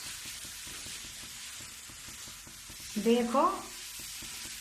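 Carrot halwa with khoa cooks in a pan over a steady sizzling hiss. A brief scraping stir sounds near the end, and a voice speaks once.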